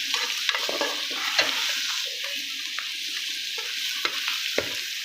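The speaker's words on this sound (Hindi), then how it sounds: "अब इसको अच्छे तरीके से हम फ्राई कर लेंगे।" Spiced bitter gourd and chana dal fry in a pan, a steady close sizzle broken by repeated scraping stirs of a spoon, with no talking.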